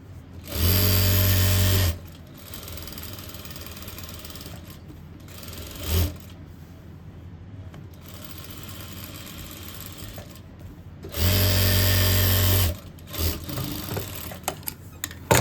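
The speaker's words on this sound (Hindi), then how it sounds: "अब इसके बाद आपने बुकरम के साथ साथ सिलाई को चलाना है।" Sewing machine stitching a simple suit along buckram, running in two loud, steady bursts of about a second and a half each. A brief clunk and a quieter hum sit in the gap between the runs.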